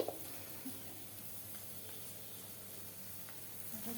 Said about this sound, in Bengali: এটা হচ্ছে আলু করলা ভাজা।